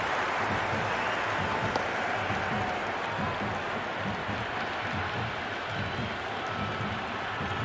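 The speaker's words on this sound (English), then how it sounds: "There's a buzz, a real buzz coming from the stands." Steady, dense roar of a stadium crowd cheering throughout a T20 international cricket match between India and New Zealand in Cricket 26, loud and continuous with applause-like texture and no clear talk.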